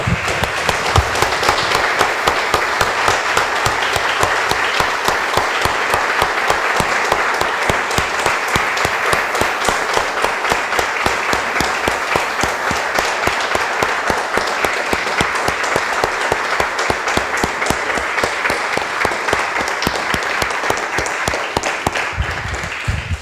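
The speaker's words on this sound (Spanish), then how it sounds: "Damos un aplauso, hermanos." Church congregation applauding together after a prayer, dense sustained clapping from many hands that fills the room evenly for over twenty seconds.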